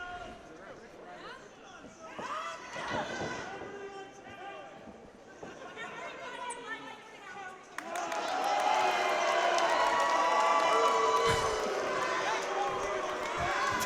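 A wrestling crowd cheers and yells in an arena, building into a louder, sustained roar partway through while a commentator talks over it.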